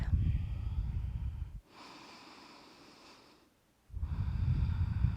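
Deep, forceful breaths during a yoga flow: a long loud exhale, a softer airy inhale, then another strong exhale, close to the ear with no talking.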